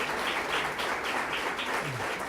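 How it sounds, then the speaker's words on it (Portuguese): Audience applause at a church gathering, heard as a steady, dense wash of many hands clapping that holds at an even level for the whole stretch, with no voices over it. "Ese aplauso más fuerte para la gloria de Dios."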